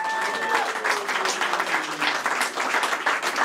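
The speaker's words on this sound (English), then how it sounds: "So can we give him a clap anyway?" Crowd applause at an outdoor multicultural interfaith cricket match, honoring the man of the match; dense, steady clapping throughout, with faint voices mixed in beneath it.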